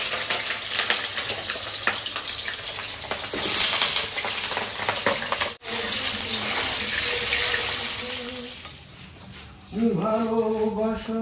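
Potatoes frying in hot oil, a loud, close, continuous sizzle and hiss that swells and eases, with a voice coming in near the end.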